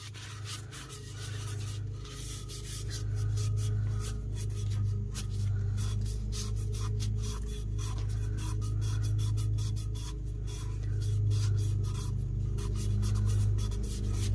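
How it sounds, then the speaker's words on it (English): Chameleon mica powder is burnished hard onto a black-base epoxy tumbler, giving a continuous, fairly quiet rubbing and scrubbing texture over a steady low hum. "I'm burnishing it pretty hard, just trying to get streaky spots worked out."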